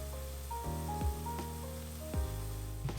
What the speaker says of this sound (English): add your shallots and garlic. Give it a good stir and allow the shallots to cook and soften.